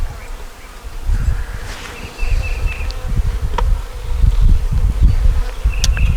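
A swarm of honeybees hums continuously up close at an open hive, the buzzing swelling and dipping as insects drift nearer and farther away.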